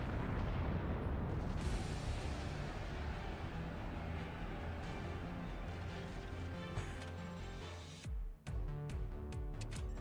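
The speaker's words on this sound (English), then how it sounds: "Sniped by cannon." Cannon fire and explosions in a battleships video game, a dense, continuous roar of booming blasts and rumbling detonations that ends in a few sharp final bangs.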